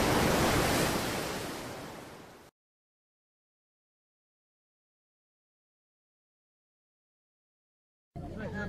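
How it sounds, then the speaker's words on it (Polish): Sea waves surging and crashing against the hull, rudder and propeller of a ship wrecked on a cape, a loud, dense wash of surf for about two seconds, then silence before the surf briefly returns at the end. "Do dziś te fale obijają się o burty statku, potężny ster i śrubę,"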